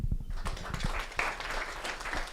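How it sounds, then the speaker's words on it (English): Audience applause following a speech at a World AIDS Day commemoration launch, a dense wash of clapping that swells in after a few low thuds and continues steadily, with a sharp knock at the very end. "Let's give him a round of applause."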